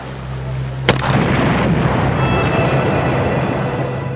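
A single sharp gunshot cracks out, followed by a long rolling rumble of distant gunfire and explosions that fills the rest of the scene.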